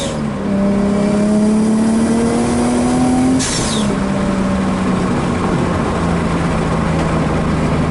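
A 1JZ-engined S14 drift car, running rich with a blown turbo, pulls hard in second gear, its engine note climbing steadily and loud up close, then a sharp hiss or pop as the revs drop and it settles into a lower drone.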